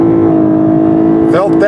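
A 2020 Lexus LS500h hybrid accelerates hard in Sport Plus mode, giving a loud, steady engine and motor drone with a slight rising pitch inside the cabin. A voice exclaims near the end.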